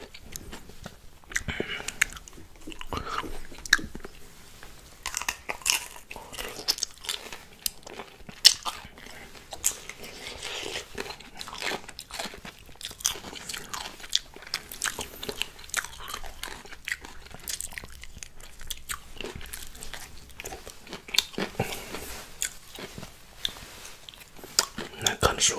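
Crunchy Thai pickled mango from a mixed pickled fruit platter being bitten and chewed close to the mic, repeated sharp crunching bites and wet chewing in an irregular rhythm, with occasional quiet talking.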